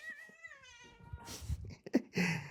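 A pet cat meows repeatedly indoors, close by, with drawn-out harmonic cries early on followed by shorter, rougher calls and a few bumps of movement.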